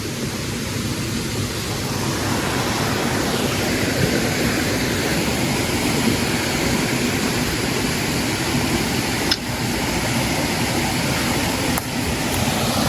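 Steady, dense broadband rush of a waterfall fills the scene from start to finish, loud and close with no pauses, its constant roar broken only by a couple of faint brief clicks near the end; no one speaks.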